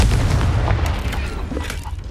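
A Confringo blasting spell explodes in the Hogwarts Legacy video game, a loud, dense boom with crackling blast noise sustained through the clip, no voices heard.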